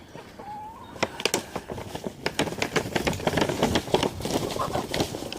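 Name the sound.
chickens clucking while eating spinach and apples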